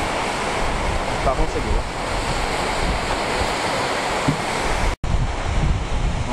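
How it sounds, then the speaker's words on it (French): Waterfall roaring steadily in the open Icelandic landscape, heard from a viewpoint over a valley, a continuous broadband rush with wind buffeting the microphone and a person briefly talking over it. "Une cascade, ouais, bravo."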